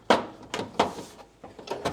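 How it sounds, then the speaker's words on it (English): The door of a Frigidaire FFMV164LSA microwave with a breaker-tripping fault is worked open with several close, quick clicks and clunks of the latch and door in succession. "it's easier to open the door"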